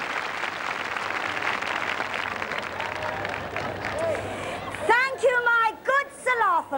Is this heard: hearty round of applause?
yes